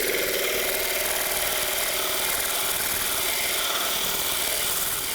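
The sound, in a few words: big sanding disc flattening the bottom of a wooden paperweight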